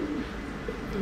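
Racing pigeons bred to fly at medium height coo softly, a couple of low, soft coo phrases rising over a steady background murmur.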